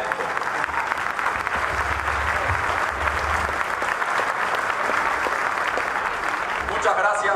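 A theater audience claps in steady, dense applause that fills the whole stretch at an even level, with a faint voice barely audible underneath.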